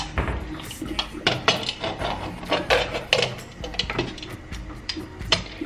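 A pressure cooker pot in a home kitchen, handled with repeated close clanks, taps and scrapes of metal and lid in an uneven, busy rhythm, with no talk.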